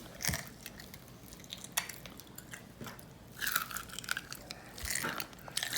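Crunchy honeycomb tripe being bitten and chewed up close, with repeated wet, crisp crunches in irregular bursts and no talking.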